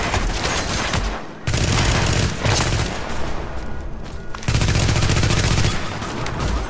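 Sustained automatic gunfire from a weapon in The Division video game, loud and dense rapid bursts with a short pause between them, close and dominating throughout.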